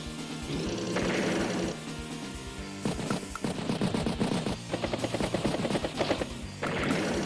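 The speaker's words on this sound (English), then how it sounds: "Try machine gun down that medium tank." Machine gun unit firing on a medium tank in the Advance Wars video game, a loud sustained burst of rapid game gunfire sounds with crashing impacts, arriving in several bursts with short breaks between.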